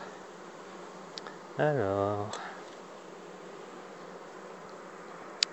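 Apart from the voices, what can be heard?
bees buzzing on a hive frame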